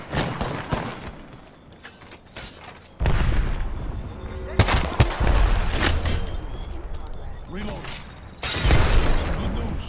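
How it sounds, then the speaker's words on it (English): Enemy gunfire in an Apex Legends-style battle royale match: scattered sharp shots and heavier bursts, some loud and close, others distant, with players talking over the action. "We got another team shooting at us."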